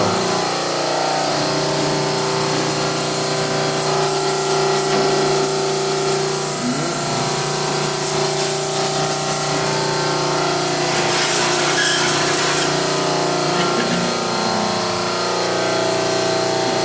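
Kaivac cleaning machine spraying soapy chemical water, giving a steady hiss with a motor hum underneath that runs close and continuously for the whole stretch, with no talk.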